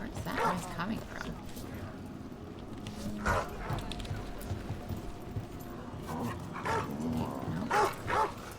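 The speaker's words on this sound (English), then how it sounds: "Bad doggy. Stop it." Dog barking in the fantasy RPG Dragon Age: The Veilguard, several short bursts repeating through the scene over a dense bed of game ambience, with a voice talking between the barks.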